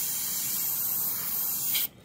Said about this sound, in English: I can spray right off the shield a little bit right there